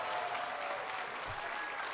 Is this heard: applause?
yes